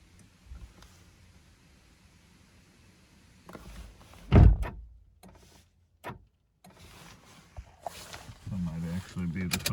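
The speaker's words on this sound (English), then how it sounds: "when I closed the door, it attempted to unlock it twice" Car door of a 2013 Honda Fit thunks shut, followed by short clicks of the lock actuators cycling twice, with quiet talk around it in a parked car.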